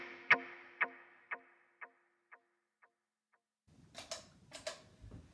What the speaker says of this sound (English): So here is just the delay, fairly high mix tape delay.